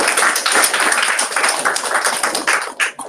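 An audience applauding at a presentation event, dense steady clapping from many hands, loud and continuous, tapering near the end.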